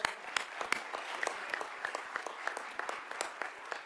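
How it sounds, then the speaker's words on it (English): A round of applause from a room full of people, steady clapping throughout with a few sharper claps standing out. "give them all one more round of applause"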